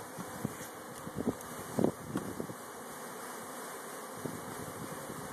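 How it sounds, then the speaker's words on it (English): Honey bees buzz softly around a hive as they are shaken in, a faint steady hum broken by a few brief louder thumps and rustles, with no talking. "See the bees falling down in there?"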